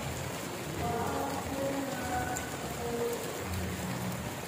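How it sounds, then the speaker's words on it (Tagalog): Rain falls steadily in Cebu, a continuous hiss of drops on surfaces that holds an even level throughout with no voices. "Umuulan po for today's video."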